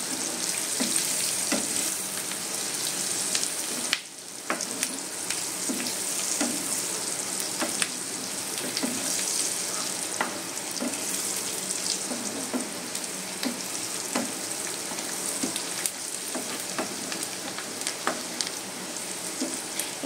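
Spice powders, chili and ground coriander, frying in oil in a pan, with a continuous sizzle and regular spatula scrapes and taps over about twenty seconds, close and unaccompanied by speech.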